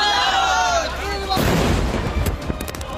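Bomb blast at a railway station in Murshidabad, Bengal: a heavy booming explosion bursts in midway and rumbles on with crackling debris, preceded by a high whistling tone.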